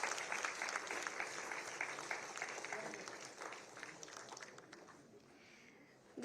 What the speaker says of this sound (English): Let's have a warm round of applause for all the awardees.